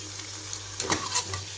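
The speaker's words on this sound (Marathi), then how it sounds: "गॅसवरती मी कढई ठेवलेली कढईमध्ये तेल ओतलेले आणि आता मोदक तळून घेते" Wheat flour modaks fry in oil in a kadhai on a gas stove, a close, steady sizzle with brief louder crackling bursts partway through.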